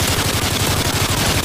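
Rapid, loud, close automatic gunfire from a video game weapon, rounds hammering in a dense steady rhythm for the whole moment with no voices.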